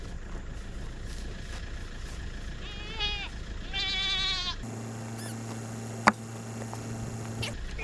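A goat bleats a few wavering calls close by, followed by a steady low hum like an idling engine and a single sharp knock.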